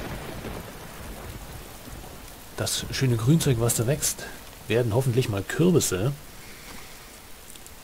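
Steady rain falls in the survival video game DayZ, a soft, continuous hiss that carries on beneath someone speaking German.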